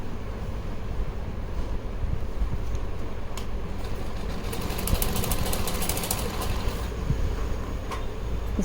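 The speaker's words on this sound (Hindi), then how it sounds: "अब मैं साइड से इस तरह से सिलाई करती हूँ।" A sewing machine runs steadily, stitching the base of a Laddu Gopal dress: a loud, dense mechanical buzz and whir that continues throughout without a break.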